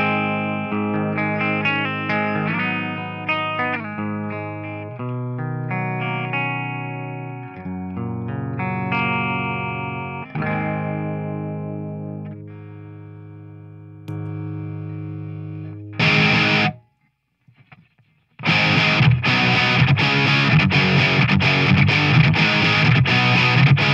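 A Gibson Les Paul Traditional Pro electric guitar plays through a Fulltone OCD overdrive pedal, moving from sustained distorted chords and single notes to a short pause and then loud, driving strummed chords.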